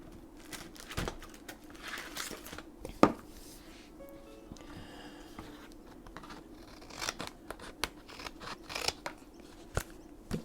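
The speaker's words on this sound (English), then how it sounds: "Then I'll cut this bit here." Scissors snip through a paper craft tag in several quick, close, crisp cuts, with soft paper rustling and handling noises between them in an otherwise quiet room.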